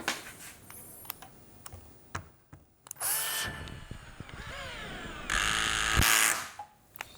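A Tekiro CD-HD2047 12V cordless hammer drill drives a long screw in short bursts, its motor whining up in pitch with loud close spurts and clicks between them.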